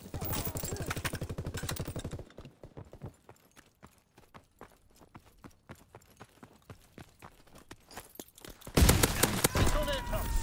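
Rapid gunfire in Call of Duty WWII, with a steady rattling fusillade, then a long run of separate sharp shots at irregular spacing, ending in a loud dense burst of firing, with voices shouting in between.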